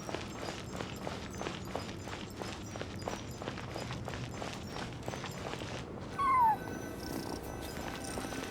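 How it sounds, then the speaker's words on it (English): A cat's cry in the video game Genshin Impact rises once, brief and faint, near the end, after a run of quiet, regular footsteps across a hushed ruin. "And so I followed the cat's cries to find my way"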